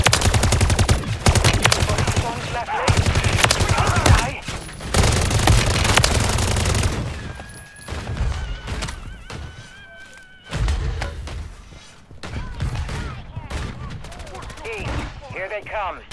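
Gunfire in Modern Warfare Zombies rattles in rapid automatic bursts and heavy thuds, loud and close, with pauses between volleys and later scattered shots, while voices talk over the action.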